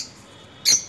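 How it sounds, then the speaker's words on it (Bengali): A pet lovebird, a small parrot, lets out one short, harsh squawk after a quiet moment, followed by the start of another, close by and with no voices. "লাভ বার্ড একটি টিয়া প্রজাতির পাখি"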